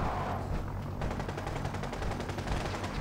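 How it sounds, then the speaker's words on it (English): Rapid automatic gunfire at a shooting range in Fallout 4, a dense rattling burst that fills the whole stretch and turns sharper and more clipped after the first second, loud and continuous with no voices. "practice gunfire."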